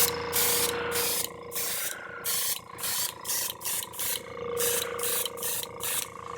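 Repeated bursts of hissing from a spray paint can, roughly a dozen short sprays in an uneven rhythm, close and loud, with brief pauses between them.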